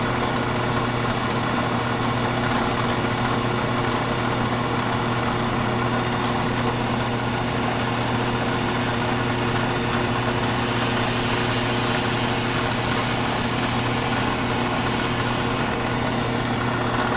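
Milling machine steadily cutting a Kurt vise handle toward its center, a continuous even mechanical drone with fine high-pitched whine and no talking.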